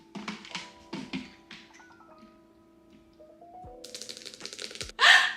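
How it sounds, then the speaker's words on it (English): Fingernails click and tap on the box of a silver iPhone 17 Pro Max during an unboxing, a quick run of sharp taps, then a pause with faint ringing tones, then a faster burst of clicks ending in a louder rustle. "I don't know why I love the nail clicking."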